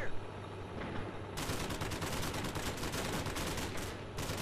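Suppressing gunfire in Call of Duty: Modern Warfare, loud sustained automatic bursts with brief gaps, joined by heavier rattling fire partway through and layered over battlefield din.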